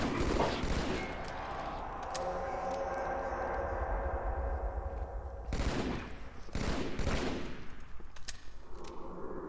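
Shotgun fire from the Halo video game level Sacred Icon, played on Legendary against the Flood, a string of loud booming blasts amid continuous rumbling battle noise.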